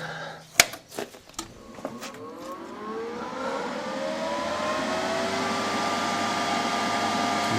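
The cooling fan of a Titanium Unlimited 200 multi-process welder spins up after a few clicks and knocks, rising into a steady whooshing whir that holds nearby and grows slightly louder.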